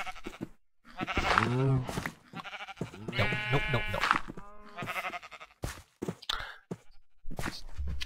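Minecraft sheep bleating in the video game, several loud wavering bleats in a row, mixed with someone talking over them.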